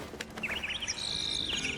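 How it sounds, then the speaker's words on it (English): A bird calls in the video game Prince of Persia: The Lost Crown, a quick run of bright chirps followed by a longer sustained whistling note, faint and clear over a quiet game ambience. "Bird's going nuts."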